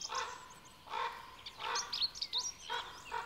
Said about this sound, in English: Ravens are often heard wherever wolves are eating.